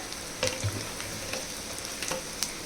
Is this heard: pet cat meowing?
no